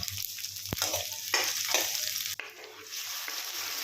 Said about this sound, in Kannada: ಇದು ಫ್ರೈ ಆದಮೇಲೆ ಅದಕ್ಕೆ ಹಸಿರು ಮೆಣಸಿನ್ಕಾಯಿ ಹಾಕ್ಕೊಂಡು ಅದನ್ನು ಫ್ರೈ ಮಾಡ್ಕೋತಾ ಇದ್ದೀನಿ